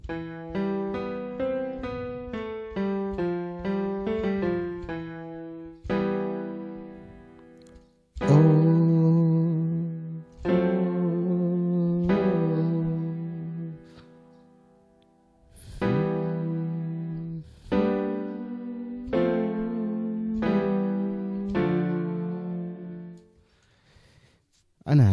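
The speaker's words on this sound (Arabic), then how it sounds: "ده صوت البيانو." Piano from the Xpand!2 software instrument plays alone, starting with a quick run of descending notes and then moving into sustained chords and melodic phrases with clear attacks and ringing decays, loud and close, with no talking.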